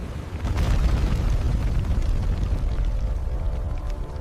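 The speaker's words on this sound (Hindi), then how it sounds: "एक के बाद एक जोरदार धमाके।" Heavy booming blasts of ships exploding one after another in a 1971 wartime night attack roll together into a loud, continuous rumble, with crackling bursts layered over the deep roar.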